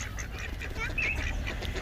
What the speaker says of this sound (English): Here's a duck here and a duck there.